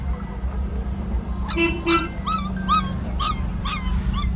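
Small puppies at the Maghi Mela horse fair in Sri Muktsar Sahib whimper and yip in a quick series of high cries over a low steady hum.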